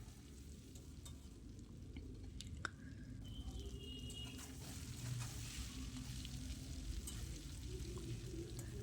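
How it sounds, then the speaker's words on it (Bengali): Paneer pieces frying in mustard oil and ghee until lightly reddish, a steady soft sizzle with an occasional sharp click and faint chirps in the background, no talk. "প্রথমেই আমি পনিরের টুকরোগুলোকে একটু ভেজে নেব।"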